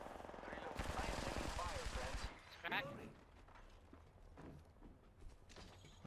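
Rapid video game gunfire rattles in a dense, loud burst for about a second and a half, then fades to scattered softer shots, with a voice talking over the action.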